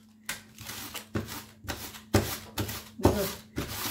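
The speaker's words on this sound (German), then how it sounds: "die Möhre schneide ich auch so auf die Streifen" A knife slices a carrot into strips on a table top while sauerkraut is being prepared, giving about eight regular, close, dry scraping strokes with short pauses between them and no talking.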